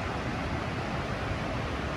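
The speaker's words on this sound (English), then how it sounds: "this river is cutting right through the lava flow and going over the rapids" Steady broadband rush of the Deschutes River pouring over rapids where it cuts through a lava flow, a continuous close roar with no breaks or voices.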